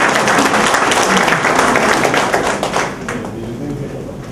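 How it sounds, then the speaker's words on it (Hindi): An audience at a professional excellence seminar applauds, giving dense, loud, steady clapping that fades somewhat toward the end. "चलो ताली तो बजा दो।"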